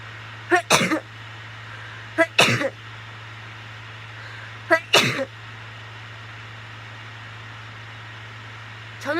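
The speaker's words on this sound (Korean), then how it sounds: "저는 지금 재채기를 3번 했지만 잘 나올 때 5번도 한답니다." Three sharp, loud sneezes, each a quick burst, spaced apart over a steady hum, set off by a rolled, pointed tissue tip pushed into a nostril.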